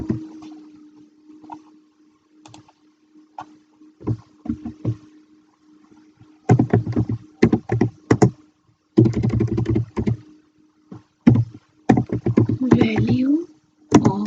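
Someone types a Python statement on a computer keyboard, with bursts of quick close key clicks mixed with stretches of someone talking over them.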